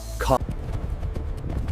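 Horse hooves clip-clop in a quick, steady rhythm, close and fairly loud. A short whinny-like cry comes at the start.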